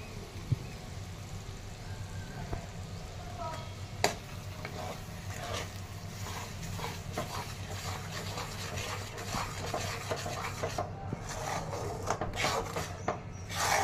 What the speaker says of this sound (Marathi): तर हे वाटण मी टाकून घेत आहे आता.